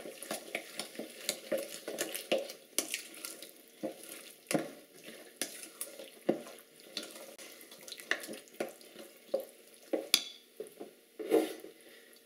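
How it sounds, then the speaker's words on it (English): Smoky chipotle baked beans being mixed together in a bowl, a close wet stirring and scraping with irregular clinks of the utensil against the container, repeating steadily with no voices. "Mix this all up."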